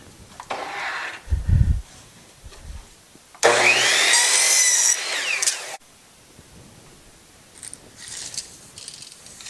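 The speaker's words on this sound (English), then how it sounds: "we come over to the miter saw, and we're going to cut bevels on the ends of the 2 8-foot lengths" A miter saw spins up and bites through the end of an 8-foot wooden board to cut a bevel, a loud, steady whining burst of about two seconds, set between quieter knocks and handling noises of boards being positioned.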